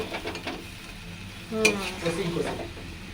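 Potatoes frying in a pan with spices added, stirred so they sizzle steadily with a clatter of the utensil near the middle, recorded close up in a home kitchen.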